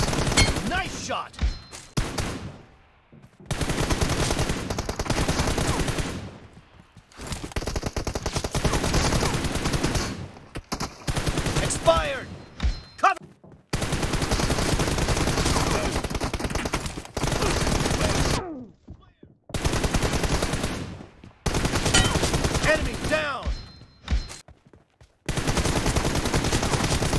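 Gunfire in the video game PUBG Mobile, bursts of rapid automatic shots and single cracks broken by short silences, loud and close, with voices talking between the volleys.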